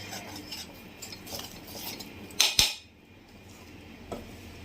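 Flour being mixed in a metal vessel for chalimidi, quiet scraping and rubbing strokes followed by a pair of sharp, loud clanks of the utensil against the rim, then softer stirring.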